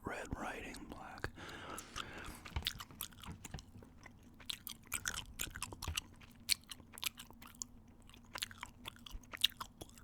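Gum chewed close to the mic in soft, wet, irregular smacks and clicks, with faint whispering over the top at low volume throughout.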